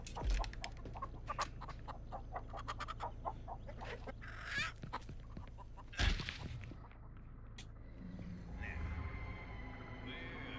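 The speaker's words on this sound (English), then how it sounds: "That's the annoying bird." In the Texas Chainsaw Massacre video game, an annoying bird calls in a series of short, sharp clucking chirps over a low hum, with a louder squawk midway and some faint talk.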